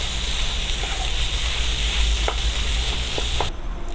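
Mashed boiled potato filling for aloo paratha frying and being stirred in a pan: a steady close sizzle with a few soft spatula knocks, then it drops away abruptly at the end.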